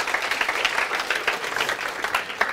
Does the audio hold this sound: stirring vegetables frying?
no